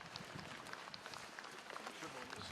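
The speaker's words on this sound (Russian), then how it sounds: "Уже под аплодисменты, конечно." Applause greets cosmonaut Dmitry Petelin at a Soyuz MS-23 crew arrival, a steady dense clapping spread across the whole moment with busy crowd noise and some voices underneath.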